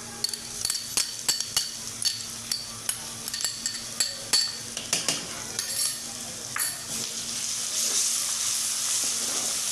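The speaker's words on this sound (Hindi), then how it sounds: "अब हम इसके अंदर अदरक लहसुन का पेस्ट डालेंगे।" Golden fried onions in a pan with ginger garlic paste being stirred for aloo gosht, with a steady sizzle under repeated close spoon scrapes and clinks against the metal pot.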